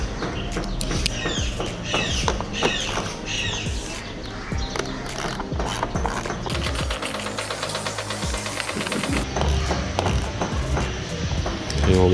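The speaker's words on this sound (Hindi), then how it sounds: "इसको टाइट करने के लिए 10mm का ये वाला लगेगा, 10mm का" A socket wrench with a 10mm socket tightens the battery terminal nut on a Honda CBR motorcycle, giving repeated close ratcheting clicks in quick bursts, with some metallic handling noise and a voice talking at times.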